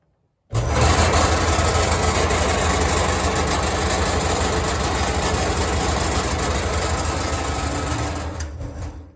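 An electric corn sheller with a warped wheel runs continuously, a loud, close mechanical whir with a rapid rattling, wobbling pulse throughout, switching on abruptly and slowing slightly at the end; no talk.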